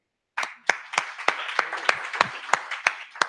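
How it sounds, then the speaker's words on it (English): Sparse applause from a small audience at a Women Techmakers Berlin JavaScript crash course, distinct individual claps landing in an irregular rhythm over about three seconds after a brief silence, close and fairly loud. "Please give yourself an applause."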